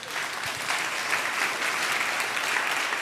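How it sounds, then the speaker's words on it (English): Audience applause at a talk on brain health, a steady dense clapping that holds at an even level throughout without voices. "Let's give him a round of applause."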